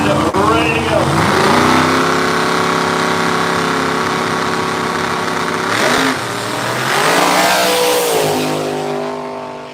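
A 1992 Mustang drag car running nitrous and a 5.3 LS turbo at a no-prep small-tire event, its engine roaring loudly with rising and falling revs. An announcer talks over it.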